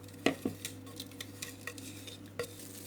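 Spice mixture going into a tomato and onion lahmacun filling in a home kitchen: a few sharp clinks of a utensil against a bowl, then softer scattered taps and stirring scrapes, fairly close with a steady low hum beneath.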